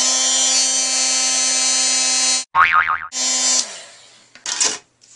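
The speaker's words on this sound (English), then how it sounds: "let me bring in my heat gun here and show you" A steady high-pitched whine of a heat gun runs for a few seconds, cuts off, then starts again briefly amid a few wobbly, warbling noises.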